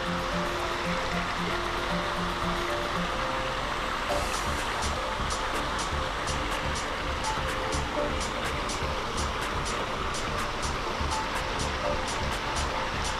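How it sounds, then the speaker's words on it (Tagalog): Spring water pours steadily out of a rock cave grotto in San Ildefonso, Bulacan, a constant loud rushing wash with no pauses across the whole span. "Bali talagang mineral pa yung tubig niya kasi nanggagaling sa loob ng cave."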